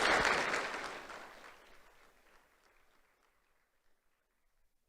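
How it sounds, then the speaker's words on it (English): An audience at an awards ceremony applauds the school board, a burst of clapping that starts loud and fades over a couple of seconds into near silence. "Let's have a round of applause for the school board and Dr."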